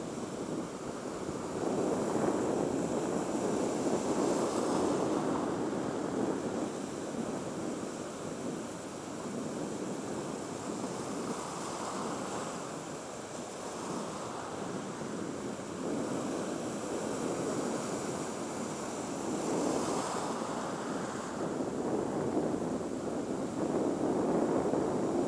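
Ocean waves wash in on the shore while shore fishing for rudderfish, a steady broad surf roar that swells and recedes in slow surges, with no voices over it.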